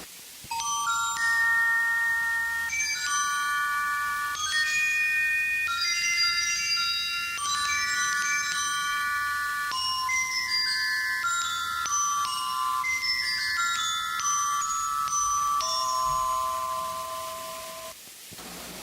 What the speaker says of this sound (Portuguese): O som do glockenspiel evoca o carrilhão em puro som cristalino.